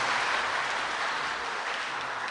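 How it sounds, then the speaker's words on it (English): Sustained applause from an audience at a college foundation day and alumni lecture, a steady dense wash of many hands clapping at even loudness throughout. "a round of applause, I think."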